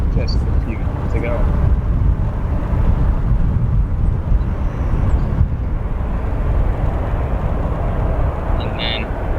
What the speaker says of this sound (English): That aircraft we're following currently. An American 737-800 arrived from DCA, Washington Ronald Reagan Airport just a few minutes ago.